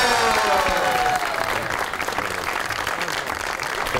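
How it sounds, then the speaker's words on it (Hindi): A studio audience on a Pakistani comedy talk show applauds to welcome a guest, a dense burst of clapping that starts loud and then settles into steady applause over a faint musical sting. "आपकी बहुत सी तालियों में the one and only Mubashshir Lukman"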